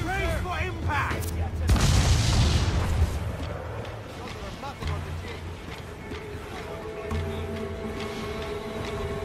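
Ship cannons firing in Assassin's Creed IV Black Flag, heavy booming blasts with a big roar around two seconds, followed by scattered distant thuds and crew shouting over a steady background din.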